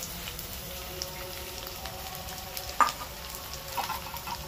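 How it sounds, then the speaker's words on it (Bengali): Raw rice, likely Gobindobhog, fries in oil in a pan, making a soft, steady sizzle with faint stirring scrapes and an occasional small pop, quiet and close with no talk. "চালটাকে ভালো করে তেলের মধ্যে ভেজে নেব।"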